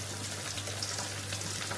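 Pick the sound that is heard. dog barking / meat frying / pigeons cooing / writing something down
meat frying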